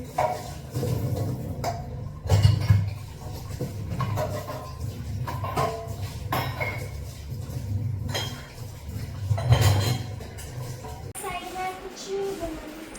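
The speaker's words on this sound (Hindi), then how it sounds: "अब करने हैं उसको बर्तन साफ, चाय के बर्तन" Tea dishes and utensils washed at home, with irregular clinks and clatters of cups, pots and spoons near and moderately loud, while people talk intermittently.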